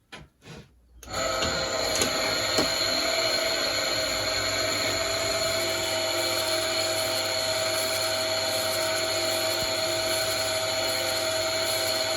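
A blade is sharpened against a coarse-grade grinding wheel, giving a steady, loud mechanical whine with a bright, high edge that starts abruptly after a second of quiet and runs without a break.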